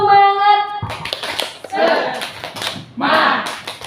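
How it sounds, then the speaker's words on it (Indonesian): A group claps out a rhythmic "tepuk semangat" chant at a school gathering, opening with a tonal sound, then bursts of close, loud clapping mixed with shouted voices. "Tepuk semangat dulu ya ini"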